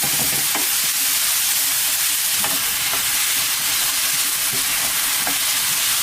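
Chopped onion stir-fried with cooked minced pork in a frying pan, a steady close sizzle with a few soft stirring scrapes, no voices.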